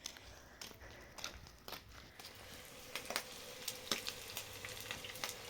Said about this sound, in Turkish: Soğanını güzel bir şekilde kavurdum. Kıymasını suyunu çekene kadar kavurduk.